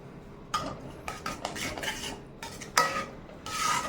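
A utensil stirs pineapple kesari in a metal pan, making a series of scraping, clinking strokes that are close and fairly loud, with short pauses between them and no talk.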